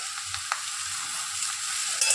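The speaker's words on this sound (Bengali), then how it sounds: "এখানে জিরে আর তেজপাতা করে আমি দিয়ে দিয়েছি।" Cumin seeds and bay leaves fry in hot oil with a steady, soft sizzle and a few small pops, heard alone.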